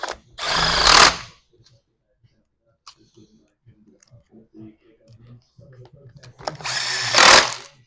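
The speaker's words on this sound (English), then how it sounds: "just putting the bolts back in." Power tool driving bolts back into a STIHL hedge trimmer being repaired: two short loud bursts of whirring several seconds apart, separated by quiet clicks and handling noises.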